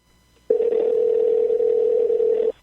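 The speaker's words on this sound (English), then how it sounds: "So here we go, making the phone call." A single steady ringback tone sounds from an iPhone during a call, one loud continuous two-second beep that starts and stops abruptly against near silence.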